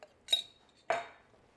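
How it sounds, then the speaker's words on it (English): A utensil stirs diced chipotles into an onion and garlic mixture in a pot for chile verde, two separate sharp metallic clinks against the pot, close and otherwise quiet. "Get that all mixed in."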